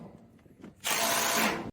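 Impact wrench pulling a part through on a trailer, a single loud burst of rapid hammering lasting under a second, close by and preceded by faint fumbling with no speech.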